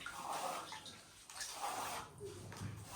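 A brush being swished and rinsed in water while smoothing a freehand corner: soft, faint sloshing and gurgling swirls in a few uneven bursts, close by with no talk.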